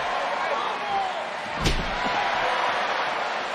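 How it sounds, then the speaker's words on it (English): A WWE SmackDown wrestler's drop kick lands with a single heavy slam on the wrestling ring canvas, a sharp thud over steady arena crowd noise. "Ray rolls through with the basement drop kick."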